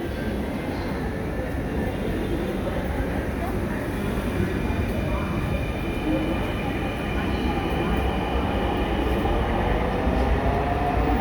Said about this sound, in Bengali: এই মেট্রোটি 4 বছর আগে চালু হয়েছে।